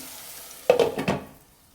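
Ginger garlic paste frying in oil gives a sudden burst of sizzling that flares for about half a second, pulses, then fades away, heard close up with no talking.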